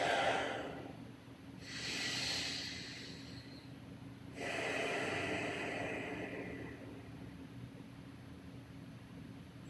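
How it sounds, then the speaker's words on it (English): Two slow, deep breaths during a gentle yoga session for the upper back, neck and shoulders, each a soft, airy rush heard up close over a quiet background hiss. "Here, we'll take a couple of deep breaths."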